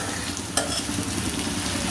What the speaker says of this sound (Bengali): প্রথমে আমরা তেল গরম করে নিয়ে এর ভিতর পেঁয়াজটা দিয়ে দেব।